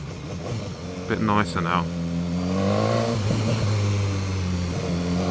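A BMW S1000R naked motorcycle engine rumbles steadily at close range, rising slightly in pitch as it revs, while someone talks over it.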